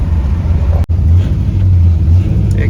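Old four-wheel-drive car named Gertie, its engine droning loudly and steadily while off-roading, with a sharp knock or jolt early on and rough, uneven rumbling throughout.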